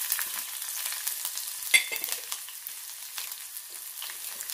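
Garlic, shallots and green chilli sautéing in a pan give a steady soft sizzle with light stirring scrapes and one sharper clink near the middle, fairly quiet and with no talking.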